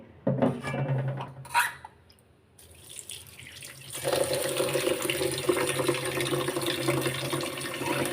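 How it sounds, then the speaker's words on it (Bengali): Rice is washed for cooking under a running kitchen tap, starting with a few splashes and drips, then water gushing steadily into the pot for several seconds at close range. "চাউলটা ধুয়ে প্রথমে বসিয়ে দিয়ে নিই তো"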